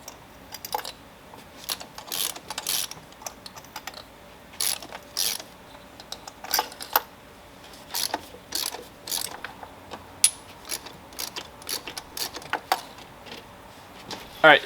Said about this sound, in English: now let's go ahead and take out the plugs